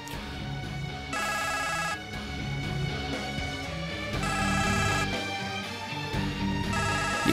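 A phone ringtone in a Turkish drama scene, a loud looping electronic melody repeating in regular phrases, ringing continuously with nothing else over it.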